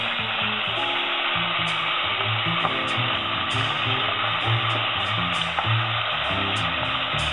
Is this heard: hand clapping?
no